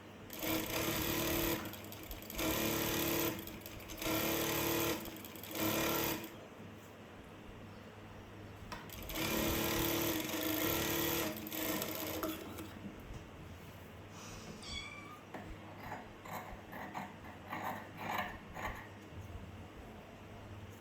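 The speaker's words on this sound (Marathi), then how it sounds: "आता मधून फोल्ड करून अशा पद्धतीने टीप मारून घ्यायची आहे" A sewing machine stitches tucks into blouse fabric in several loud, rapid bursts of mechanical chatter, separated by short pauses, then gives way to quieter fabric handling and clicks.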